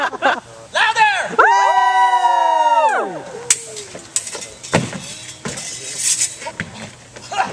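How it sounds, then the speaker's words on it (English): A crowd at a pirate faire stage show cheers and whoops in scattered bursts, with a sustained siren-like rising and falling shout standing out early, and talk and clatter mixed in around it. "Keep cheering."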